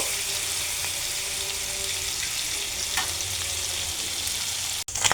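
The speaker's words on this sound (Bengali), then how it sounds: "চিংড়িটা আমি ভেজে নেব 5 থেকে 6 মিনিটের মতো" Small peeled shrimp seasoned with turmeric and a little salt fry in a pan, giving a steady broadband sizzle with faint stirring scrapes, close and continuous for about five seconds before a brief cut and a final burst.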